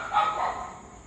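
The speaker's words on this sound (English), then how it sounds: "That's the dog that live here." A dog barks nearby in a short burst of yips and barks that fade out over about a second, with no talk.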